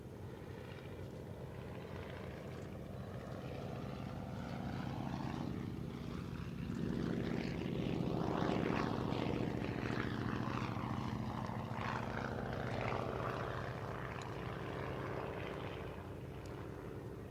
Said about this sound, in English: this one is the only airworthy example of the Anson that first went to war, the Mark 1